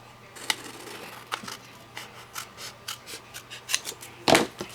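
Scissors snip paper while making a slimline greeting card. A series of short, crisp cuts comes in an uneven rhythm and ends with a louder final snip. The sound is close, with no talking.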